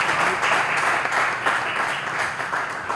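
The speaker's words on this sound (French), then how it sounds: "Merci de l'applaudir." Audience applause on a Lubumbashi quiz show, a dense steady wash of clapping lasting about three seconds, fairly loud and close, with no talk over it.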